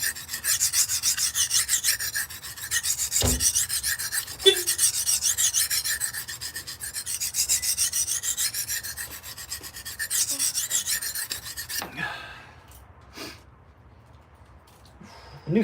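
Steady rasping strokes of a blade being sharpened against an abrasive, heavy material removal, continuous scraping for about twelve seconds then stopping, with a few faint knocks and handling sounds after.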